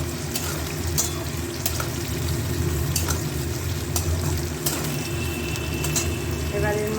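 Onion and potatoes fry in a pan with a constant loud sizzle and crackle up close, joined by occasional sharp clicks and stirring knocks, while someone talks over it.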